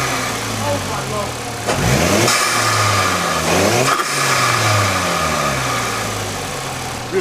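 A turbocharged car engine, just cold-started, idles with a low rumble and then revs up twice, rising and falling close by, while someone talks over it.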